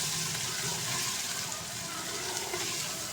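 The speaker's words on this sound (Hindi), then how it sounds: "देखिए इसके साथ साथ चिकन की भी बुनाई हो रही है।" Chicken frying with spices in a pan for Kashmiri dal, a steady broadband sizzle running throughout at moderate level, with a voice faintly present underneath.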